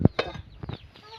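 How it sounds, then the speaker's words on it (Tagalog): Farmyard chickens cluck in a few short bursts at close range, with one louder call at the start and softer clucks following, with no talk over them. "My goodness talagang mga manok."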